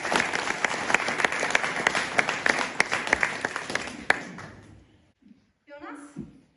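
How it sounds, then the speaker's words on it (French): Applause from a gathered audience at a Swiss guild ceremony, a dense patter of many hands for about four seconds, then fading out abruptly into near silence, followed by a brief voice. "Il mérite nos applaudissements."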